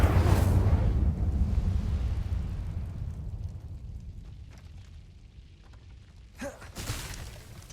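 A burst of Incendio fire spell magic in the video game Hogwarts Legacy, with a loud whooshing flare and rumble at the start that fades to a low hiss, and a couple of small crackling pops near the end.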